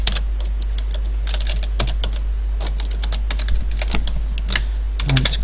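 Code is typed on a computer keyboard in quick, uneven bursts of crisp keystrokes, close and clear over a steady low electrical hum.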